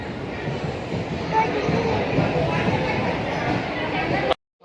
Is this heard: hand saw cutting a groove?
no